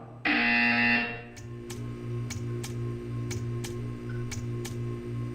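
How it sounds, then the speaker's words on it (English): A harsh electronic buzzer sounds once, loud and steady for about a second, in the video game Portal 2, then gives way to quiet, evenly spaced ticking over a low background hum. "You will hear a buzzer."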